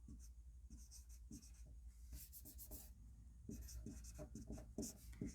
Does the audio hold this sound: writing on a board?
yes